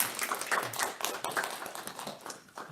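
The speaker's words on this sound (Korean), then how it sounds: "우리 먼저 박수로 한번 환영해 주시면 감사하겠습니다" A church congregation claps to welcome two guests at a service, a dense, steady patter of many hands that continues evenly throughout without voices.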